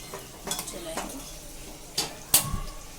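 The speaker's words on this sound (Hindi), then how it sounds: "उसके बाद ज़ीरा डालेंगे इसमें।" Cumin seeds go into a pan already holding green chilies and curry leaves, followed by a soft sizzle and a few distinct clanks and scrapes of a spoon against the metal pan as it is stirred, under faint speech.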